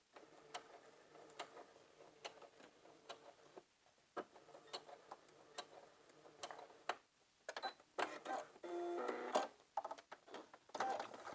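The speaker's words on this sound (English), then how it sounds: "I'm going to stop right where that crease meets at the corner and backstitch." A sewing machine backstitches a seam on a lined pencil skirt, heard as quiet bursts of rapid mechanical ticking with short pauses between them, growing busier and louder toward the end.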